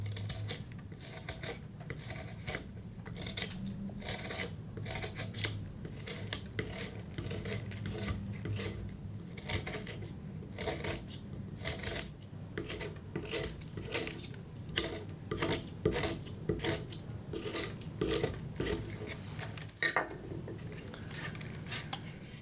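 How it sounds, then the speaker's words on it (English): A hook knife hollows out a cedar wood whistle with a long series of quick, dry scraping strokes at an uneven but steady rhythm, heard close and fairly quiet with no talking. "I will keep going and hollowing it out until I've got the air chamber that I want"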